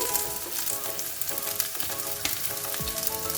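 Spice powders, including sambar powder, being stirred into sautéed okra in a pan, with steady close frying sizzle and scraping stir strokes throughout.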